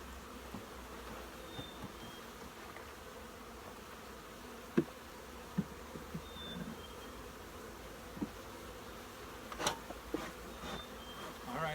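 Faint, continuous buzzing of honey bees at a queen castle hive with occasional soft clicks and knocks of wooden frames nearby, no voices.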